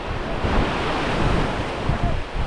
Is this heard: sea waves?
yes